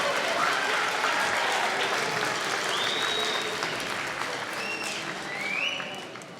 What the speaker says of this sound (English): So thank you for a big round of applause.